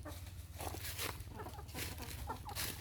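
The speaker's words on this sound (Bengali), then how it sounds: "একটা মুরগা বাচ্চা আর দুইটা মুরগি" Aseel chickens on a farmhouse in Sylhet, Bangladesh, give soft, scattered clucks that are faint and distant over a steady low rumble of background noise.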